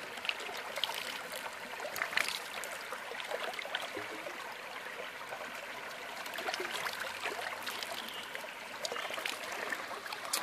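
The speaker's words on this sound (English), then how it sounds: "you can see here, water is being pumped to the center here." Water pumped to the centre of a water wheel runs and trickles steadily, close and continuous, like a small stream with splashing along its course.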